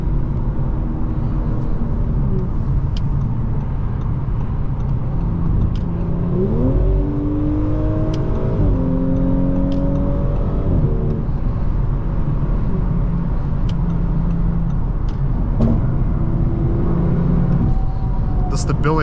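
2020 Audi S4 Prestige with its 3.0T engine accelerating from inside the cabin, a steady rising engine hum with gear changes under road noise, while a driver talks.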